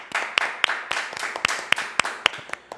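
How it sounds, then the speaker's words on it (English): A few people in a room clapping for a cousin, sparse individual hand claps in an irregular pattern, close and crisp, with about a dozen sharp slaps and quiet gaps between them. "A round of applause, please."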